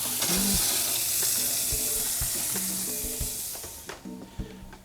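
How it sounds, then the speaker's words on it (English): Tomatoes sizzle in a hot pan for a steak and egg hash breakfast, giving a steady, close frying hiss with a few soft clinks and taps of utensils against the pan. "Pop these right into our pan, and then we'll move over to the oven with them."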